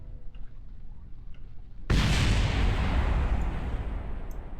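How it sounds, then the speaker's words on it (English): An explosion in a space video game goes off as one sudden loud blast partway through. A broad roaring decay follows and lasts to the end, after a quiet low background with faint ticks. "Okay, there was a slight explosion."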